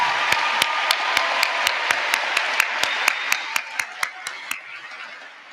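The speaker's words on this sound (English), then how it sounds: "Join me in a round of applause for their hard work and dedication." A commencement audience applauds the faculty: a broad wash of clapping with a strong, steady rhythmic beat running through it, gradually thinning and fading out toward the end.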